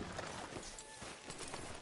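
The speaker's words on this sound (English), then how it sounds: "Hitch your horse up here." A horse's hooves clip-clop at a walk in the video game Red Dead Redemption 2, soft irregular thuds that are faint beneath a constant noisy ambient bed.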